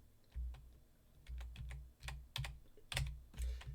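Close, quiet typing on a computer keyboard: irregular individual key clicks in short bursts with brief pauses, no voices.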